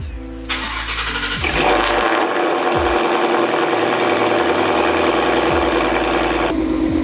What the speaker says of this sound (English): Let's go ahead and start off the Mustang.